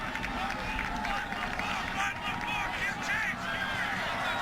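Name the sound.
stadium crowd noise at college football game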